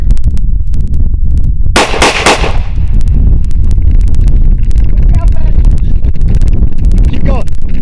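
Gunfire at an outdoor shooting range, likely from an AR-15 or Glock 19, cracks loudly in a quick burst of shots over loud wind noise, with people talking through it.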